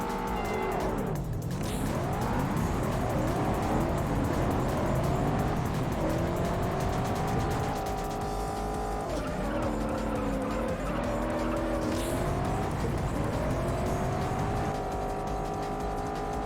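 Racing car engine from the video game Juiced revs and shifts through gears while tires squeal and skid around turns, loud and continuous with rising and falling pitch.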